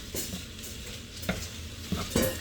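Browning meat sizzles steadily in a pan while a utensil stirs and scrapes it, with a few louder clacks against the pan over the continuous hiss, close up.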